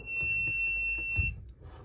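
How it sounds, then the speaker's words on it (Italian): A camper's control unit sounds a steady high electronic alarm tone warning that a window has been left open, ringing continuously and then cutting off abruptly near the end, with no one talking. "La centralina ci sta avvisando che una finestra è rimasta aperta"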